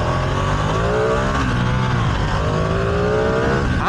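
A Ducati Streetfighter V2 motorcycle pulls away from a green light, its engine droning loud and close with rising revs through the whole short stretch.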